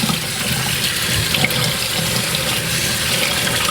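Soaked lentils are rinsed under a steadily running kitchen tap, a continuous loud splash of water into a sink that holds even for several seconds before cutting off.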